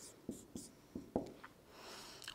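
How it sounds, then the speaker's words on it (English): A pen writes examples on a surface, producing several faint, close scratchy strokes and taps in an irregular rhythm, quiet against a soft background. "Then I'll write some of them here so you have time to think."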